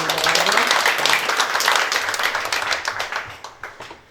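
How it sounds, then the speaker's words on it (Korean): A church congregation claps in thanks during a Korean worship service, a loud burst of many hands that holds steady, then thins into scattered individual claps and fades out by the end. "우리 박수로 우리 감사의 박수 드리겠습니다"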